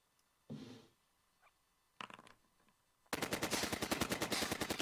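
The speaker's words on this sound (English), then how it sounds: "Using both the cannon and the machine guns" Machine gun fire in the Heroes of Normandie video game: a sustained rapid rattle of evenly spaced shots fills the second half, loud and close, after two shorter separate bursts.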